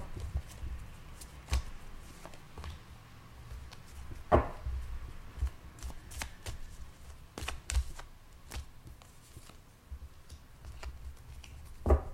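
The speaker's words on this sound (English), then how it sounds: "So you can skip the shuffling" Tarot cards are shuffled at close range, with a steady run of soft riffling and tapping and occasional sharper clacks as the deck is bridged and squared, with no speech.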